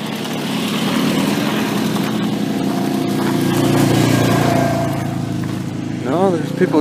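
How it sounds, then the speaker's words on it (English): A vehicle drives along a forest road in the woods near Idaho City, Idaho, its engine drone steady and fairly close, swelling slightly before easing off, with a brief voice near the end. "there's somebody driving a vehicle"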